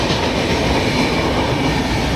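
A train runs along a railway line beside a farm and temple at Shegaon, a loud, continuous close-up rumble with rhythmic wheel clatter and no voices.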